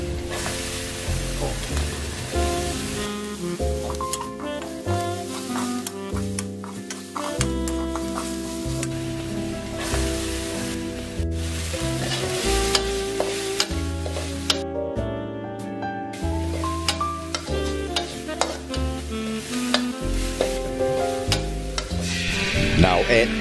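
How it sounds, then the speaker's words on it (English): Garlic, shallots and ginger frying in a hot wok: a loud, continuous sizzle with frequent scraping and clattering of a utensil as the aromatics are stirred, steady for the whole stretch. "it's time to add in the aromatics, beginning with garlic, shallots, and then ginger"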